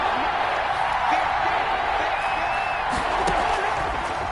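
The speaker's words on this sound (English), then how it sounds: "the crowd getting into it as we come up on a big third down" Football stadium crowd cheering ahead of a big third down, a dense, steady roar of many voices with occasional whoops and a faint whistle rising above the wash.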